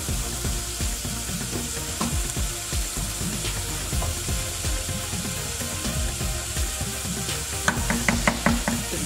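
Vegetables frying in a pan for a Nigerian meat pie stuffing, a continuous close sizzle with irregular stirring scrapes and a few sharp clicks of utensils near the end, with no voices.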